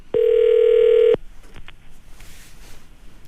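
A telephone dial tone sounds as a radio show places a call to a listener: one steady, loud tone lasting about a second, then a couple of faint clicks and low line hiss.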